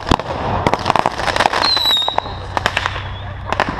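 Rapid, loud backyard fireworks bursts crackle and pop close by on the Fourth of July, overlapping with high whistling streaks, a dense continuous barrage with no pauses.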